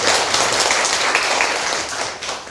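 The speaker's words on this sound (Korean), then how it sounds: "우리 큰 박수 한번 드려주세요" Audience applause at a counseling psychology department special lecture, a dense steady wash of clapping lasting a couple of seconds and tapering slightly at the end, with no voices over it.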